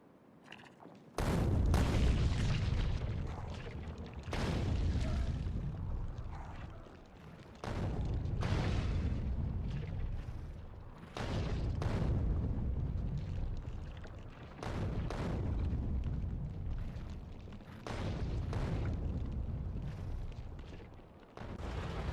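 Heavy artillery fire in Factorio Space Age, a series of about seven deep booming blasts spaced a few seconds apart, each with a sharp crack and a long rumbling decay, loud and close.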